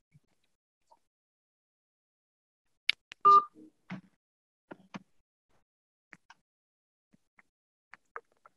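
Telephone keypad dialing tones ring out in a webinar as a panelist is called in by phone: a short burst of DTMF beeps, then scattered faint clicks and blips over otherwise quiet line noise.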